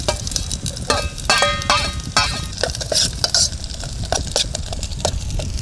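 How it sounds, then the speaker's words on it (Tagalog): Garlic and onion sauté in a pan at a beach campsite, close frying sizzle with frequent scraping and clinking stirring strokes, steady and busy throughout. "Lagyan na natin yung bawang. Medyo toast."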